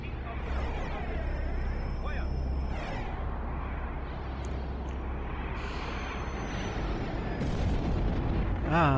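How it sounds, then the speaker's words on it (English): Explosions rumble and burst in the space strategy game Homeworld, a dense, loud, continuous roar of booms and crackles layered with electronic sweeps and tones. "Ah, software explosion."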